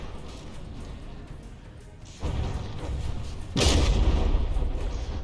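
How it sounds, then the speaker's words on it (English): Mortar shells strike and detonate on a battleship's deck in a naval combat video game, heavy booming blasts over a constant rumble, with a louder burst jumping in around the middle and a brighter, stronger explosion near the end. "one of those mortar shells may have hit this deck here and then detonated a little bit higher up"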